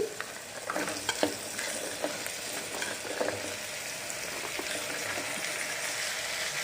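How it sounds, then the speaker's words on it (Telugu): Broad bean pieces get stirred into masala in a pan, a close soft sizzle and bubbling with a few scraping stirs early on, then a steady low frying hiss, no talking. "ఇప్పుడు ఈ చిక్కుడుకాయ ముక్కలు ఇందులో వేసేసుకోవాలి"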